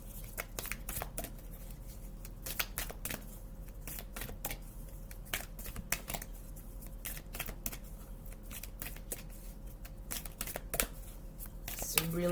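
Cards are riffled and shuffled continuously in quick, crisp bursts, close up, with a quiet voice now and then.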